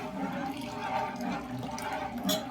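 Boiling water pouring and gurgling steadily into rice flour for a couple of seconds while being mixed, a close liquid splash with a brief louder burst near the end.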